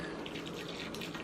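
Boiling water poured from a kettle into a dish of pitted dates, a steady, close trickling and splashing stream that runs continuously for just over a second.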